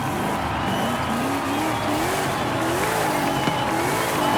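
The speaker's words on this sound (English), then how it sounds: "Let's see what kind of burnout this thing does." A muscle car does a burnout in Forza Horizon 5, its engine roaring steadily under a continuous tire squeal and skid, the revs wobbling up and down, with a sharp tick partway through.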